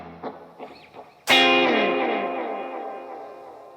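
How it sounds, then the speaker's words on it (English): A few soft picked notes, then a loud strummed electric guitar chord rings out with tape delay repeats trailing, slightly stereo and panning, slowly fading. "slightly stereo, slightly panning type of thick chord note delay"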